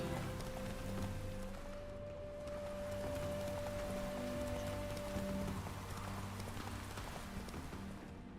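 Rain falling in The Witcher video game, a steady hiss of drops on surfaces with a horse's hooves clopping beneath, continuous and fairly close.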